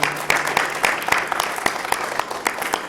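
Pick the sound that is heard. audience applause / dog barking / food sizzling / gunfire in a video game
audience applause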